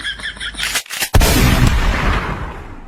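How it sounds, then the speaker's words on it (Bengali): A comedy slap effect as a teacher strikes a student in a classroom skit: one sharp, booming hit after a brief lull, followed by a long, loud decaying rumble. "স্যার আপনি ওরে মারলেন কেন?"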